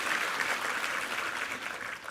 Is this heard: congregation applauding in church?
yes